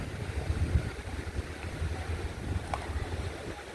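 Sea waves at a beach in San Joaquin, Iloilo, Philippines: a steady wash of surf mixed with gusty wind buffeting the microphone, continuous and moderately loud, with no one speaking.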